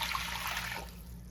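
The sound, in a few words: pouring water into a pot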